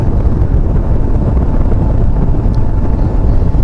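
Constant roaring wind buffeting the microphone, with a low engine drone underneath, loud and unbroken throughout.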